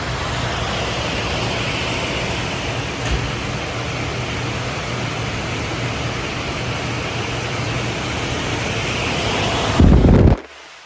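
Turbocharged small-block Ford engine roaring through a sustained dyno pull, a loud steady broadband drone throughout that swells briefly near the end before cutting off.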